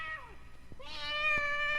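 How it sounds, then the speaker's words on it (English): A black cat yowls in a drawn-out, rising meow with clear harmonic tones, close and fairly loud, preceded by a brief falling vocal sound. "The wind was in the trees, and the black cat yowled."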